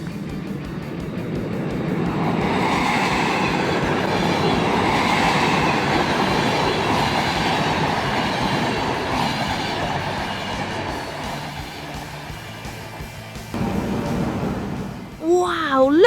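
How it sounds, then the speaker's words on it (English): The Hayabusa high-speed train in Hokkaido, Japan, rushes along the rails with a loud, sustained roar and faint clickety-clack that swells, holds, then eases off near the end. "It's the Hayabusa. Hayabusa means falcon. It's a high-speed train in Hokkaido,"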